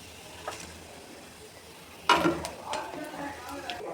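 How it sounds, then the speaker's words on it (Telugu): Punugulu fritters fry in hot oil with a soft, quiet sizzle, broken by a few sharper clatters and bumps from the pan about halfway through. "పునుగులు ఫ్రై అవుతున్నాయండి"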